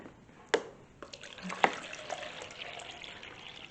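Bottled water poured into glass canning jars while preparing chilli beans for pressure canning, with a couple of sharp clinks and a thin splashing trickle over quiet room noise.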